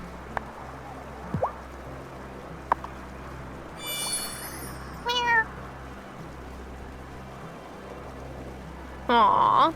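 Cat meows inside the Wylde Flowers farming game, a few short mewing calls spaced apart over soft rain ambience, with a louder, longer meow near the end.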